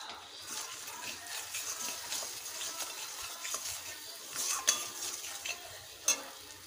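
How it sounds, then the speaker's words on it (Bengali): Spices and green chilies frying for a mustard pabda fish curry, a soft steady sizzle with a few light metallic scrapes and taps from stirring, the last of them louder. "দিয়ে দেব কয়েকটি কাঁচা লঙ্কা। ভালোভাবে কষে নেব।"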